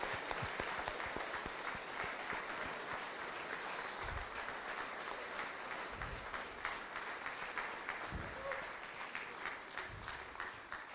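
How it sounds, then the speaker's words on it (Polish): An audience at a talent stage show claps steadily to welcome a performer, a dense, even applause that runs throughout, heard from a distance and fairly faint. "Też gromkimi brawami witamy go."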